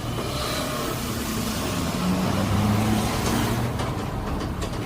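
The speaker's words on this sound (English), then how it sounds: "at this point a car decides to overtake us at speed" A car overtakes at speed on a road, heard from a vehicle towing a horse trailer; a loud engine and tyre roar swells mid-clip over steady road rumble, with no talking.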